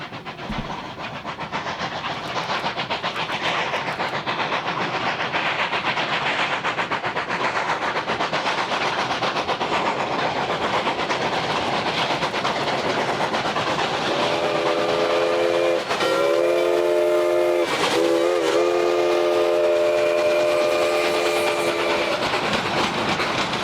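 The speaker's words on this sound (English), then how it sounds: "we catch the train making its way around the middle loop of the Whiplash Curve." Rio Grande Southern steam locomotive No. 20 rumbles steadily along the track around the Whiplash Curve loop in Colorado, wheels grinding and squealing on the curve, with a long whistle blowing near the end.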